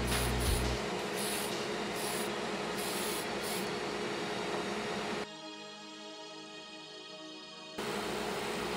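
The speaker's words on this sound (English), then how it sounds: "For priming the body, I used Tamiya's white fine surface primer." Tamiya white fine surface primer is sprayed onto a 1/24 scale Hasegawa Nissan R92CP model car body. Several short hissing bursts come near the start, then a steady close hiss, a quieter gap, and the hiss returning.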